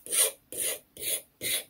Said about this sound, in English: I'm just going to slice up some strips to put into the grinder.